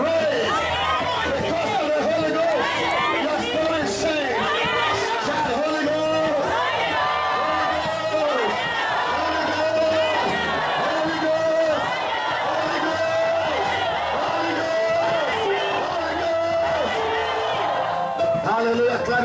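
A church congregation shouts "Holy Ghost" together in a loud, sustained crowd roar, dense voices and cheering filling the space without pause.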